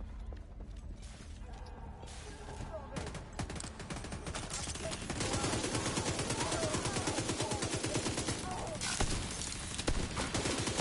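Turrets in a video game fire in fast, rattling mechanical bursts that grow louder and denser after a few seconds and then continue steadily, with voices talking over them.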